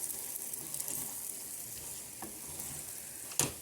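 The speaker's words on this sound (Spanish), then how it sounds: "كنخلطو" Sautéed fish and surimi sticks being stirred in a pan for an oat and seafood dish; a soft, steady sizzling hiss with faint scraping and one sharp clink near the end, no voices.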